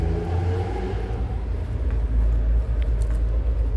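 An older-generation Ford Mustang Boss with a 5-litre engine rumbles nearby in a low, steady idle at an outdoor car meet.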